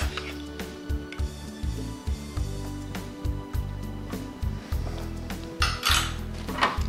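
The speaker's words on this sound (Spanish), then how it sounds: "Vamos a mezclar muy bien" Salad ingredients being tossed with lemon juice in a bowl, a rhythmic series of close clinks and scrapes of a utensil against the bowl, with a brief liquid squish near the end.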